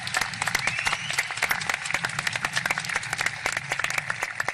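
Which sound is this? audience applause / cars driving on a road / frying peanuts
audience applause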